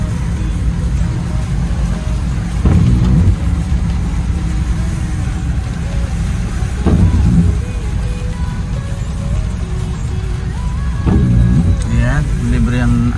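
A car pushes through shallow floodwater down the middle of a flooded road, a steady engine drone with bursts of water sloshing and splashing against the underbody, while people talk over it.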